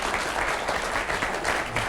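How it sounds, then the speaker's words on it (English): A television studio audience applauding guests on a Milwaukee talk show, a steady close wash of clapping that holds throughout. "Let's applaud these gentlemen for being here today as well."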